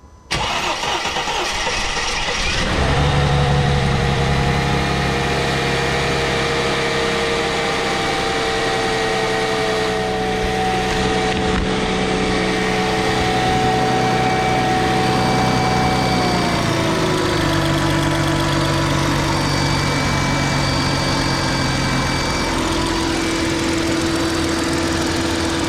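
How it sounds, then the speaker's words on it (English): Mercedes M112 engine, under a fuel injector leak test, cranks briefly, catches, and settles into a steady idle with a droning hum and a slight pitch shift partway through, with no talk. "we're gonna give it a crank now, see how long it takes to get back on"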